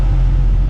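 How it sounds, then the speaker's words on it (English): The AC air compressor runs on a 1998 Jeep Wrangler, a loud, steady low rumble and hum close by, filling the short moment without pause. "I heard the air compressor come on, blowing out the top vents."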